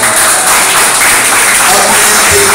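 Church congregation applauding during a Portuguese-language evangelical sermon, a dense, steady wash of clapping filling the hall at close range, with murmured voices underneath.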